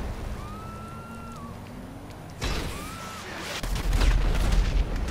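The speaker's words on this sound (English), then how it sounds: "I blew up his bike, too, I think" A motorbike blown up in GTA Online gives a sudden broadband burst, followed by a louder, sustained explosive rumble with heavy low-end boom that swells toward the end.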